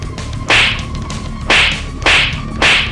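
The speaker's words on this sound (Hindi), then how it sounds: "इसी बात के गुस्से में मंगल सौम्या को थप्पड़ चढ़ देती है।" Four sharp slap sound effects from a Hindi TV serial crack out one after another at uneven intervals, loud and close with no speech over them.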